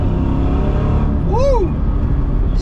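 A 2004 Ford Mustang Mach 1 pulls hard down the road, its loud, steady engine roar filling the cabin with a brief rising and falling tone near the middle.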